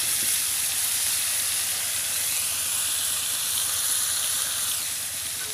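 Coconut milk sizzling hard in a pan with eel for a coconut curry, a loud continuous hiss and frying crackle that holds steady throughout with no voices.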